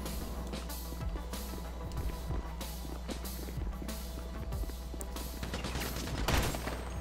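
Rapid, repeated gunshots from a marksman rifle in the video game GTA V ring out in a steady barrage of sharp cracks that carries through the whole stretch at an even, moderate level, with no talking.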